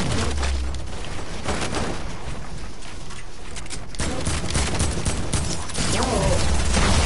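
Video game gunfire rattles in dense, continuous bursts of rapid shots, loud and steady throughout with a few sharper cracks near the end.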